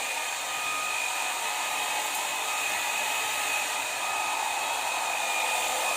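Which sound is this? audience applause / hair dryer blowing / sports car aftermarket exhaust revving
hair dryer blowing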